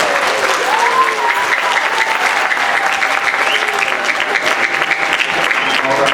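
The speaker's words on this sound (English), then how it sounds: "Let's give it a clap" A school spring concert audience applauds ahead of the Symphonic Band, steady dense clapping filling the hall loudly and evenly for the whole stretch, with crowd murmur mixed in.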